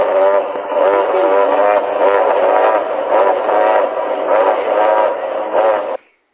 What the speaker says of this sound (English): People think T-Rex actually sound like this.